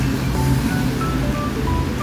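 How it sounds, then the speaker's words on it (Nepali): Steady rain pours down at a local fish stall in Makwanpur, Nepal, a dense continuous hiss and wash filling the whole clip with no pauses, loud and close, with faint tonal sounds drifting through the background. "पानी आउँदै राम्रै परिरहेको"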